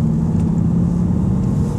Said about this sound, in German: Fahrgeräusch. V12 850i.